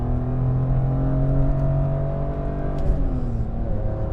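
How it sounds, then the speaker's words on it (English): A 2005 BMW M3 E46 with a manual gearbox, its engine and exhaust rumbling loudly and revving up with a steady, slightly raspy tone, heard close and continuous without pause. "Exhaust sounds good."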